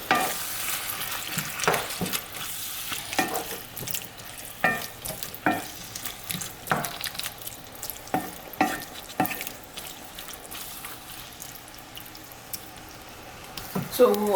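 Tomatoes cook in a pan of chicken curry, giving a steady close sizzle broken by repeated stirring scrapes and clinks against the pan.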